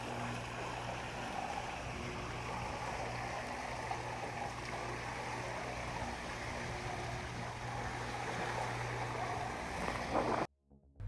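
HH8801 sailboat on sea trials motoring under engine with the main dropped: a steady low engine drone mixed with rushing water and hull wash, fairly quiet and continuous, cutting off abruptly near the end.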